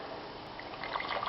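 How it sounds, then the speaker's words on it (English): Water trickling as it is poured a little at a time into a thick chickpea masala cooking on the stove, a soft steady pour growing slightly louder toward the end. "we're going to need to add some more water to this as it cooks"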